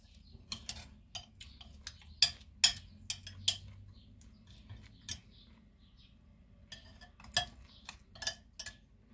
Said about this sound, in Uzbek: Shunda biron qoshiq bilan yoki biron narsa bilan o'rtaga tushiramiz.